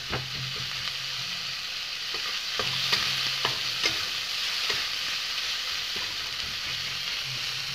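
Garlic and spices fry in oil in a pan while being stirred, for a shol fish in mustard dish: a continuous hissing sizzle broken by repeated scraping stirs and light knocks, with no voices.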